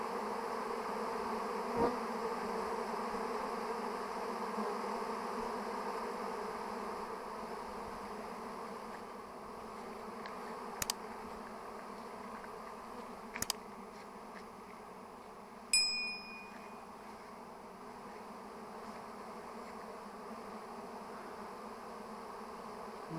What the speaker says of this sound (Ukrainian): Злітається, сідає рій.